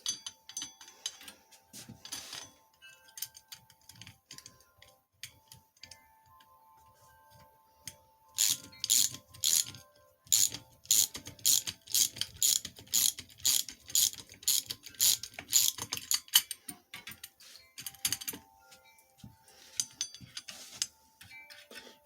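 Ratchet wrench tightening bolts in a star pattern while assembling an 80cc two-stroke bicycle engine kit on a 1969 Sears bicycle, bursts of rapid clicking ratchet strokes separated by pauses, close and fairly loud.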